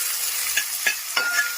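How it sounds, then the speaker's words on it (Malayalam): Finely chopped onions sautéing in a pan, a steady hiss of sizzling broken by three brief scraping stirs of the spoon, close and fairly loud. "പിന്നെ ഇത് നമ്മളൊന്ന് വഴറ്റും അല്ലേ?"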